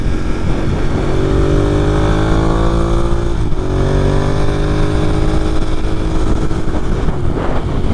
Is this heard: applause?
no